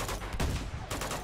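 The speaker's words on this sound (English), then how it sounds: "The hell are they shooting at?" A brief burst of dense gunfire in the video game Uncharted 2: Among Thieves, with enemies firing at yetis, loud and continuous for just over a second with no voices.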